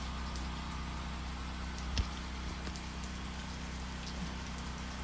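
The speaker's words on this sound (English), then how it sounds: "More freezing rain." Freezing rain falls steadily during an ice storm, making a soft, even hiss and patter that stays faint throughout over a low background hum.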